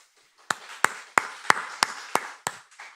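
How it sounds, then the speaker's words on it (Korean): A church congregation claps in unison during a service: about eight sharp, evenly spaced claps in a steady rhythm, close and clear with no talk. "우리 혜원이 박수 한번 합시다"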